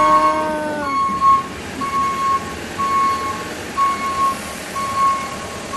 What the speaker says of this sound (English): I'm going to show you this truck.